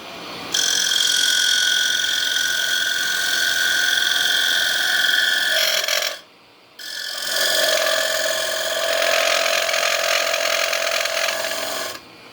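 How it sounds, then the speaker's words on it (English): A lathe gouge cuts into a small koa wood calabash, giving a loud, steady scraping whine with strong tonal bands that runs for about five seconds, stops briefly, then resumes just as loud until the end. "I'm going to try and use the gouge for a couple of cuts"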